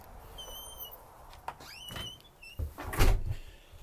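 A basement door opens with a short clunk, creaks and thumps as someone walks through it during a house inspection, close and clear with little else around it.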